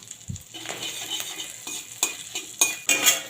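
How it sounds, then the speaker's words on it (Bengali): Grated ginger fries in a pan, giving a soft sizzle broken by several sharp scraping stirs and utensil clinks, close and moderately loud with no talking. "আদাটাকে একটু ভেজে নেব।"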